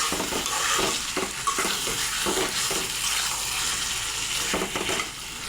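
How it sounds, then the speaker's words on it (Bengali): Chicken and fried potatoes stirred together in a hot pan for chicken kosha, with steady sizzling and repeated scraping stirs of a spoon against the pan, close and continuous with no talking. "আলুর সঙ্গে মাংসটা মিশিয়ে নিয়েছি"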